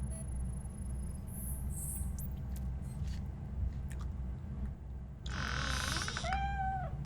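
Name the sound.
cat meowing in RoboCop: Rogue City video game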